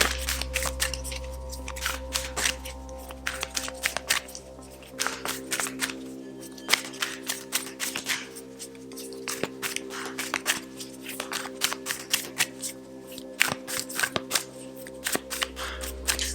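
A deck of tarot cards being shuffled by hand, quiet rapid riffling and flicking in irregular bursts over a steady low hum, no talk.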